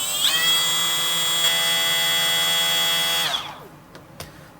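A Milwaukee M12 FUEL 1/4-inch right angle die grinder spins at its second speed setting, a loud, steady high-pitched whine that winds down at the end, followed by a few faint clicks.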